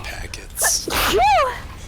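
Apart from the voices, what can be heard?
sneeze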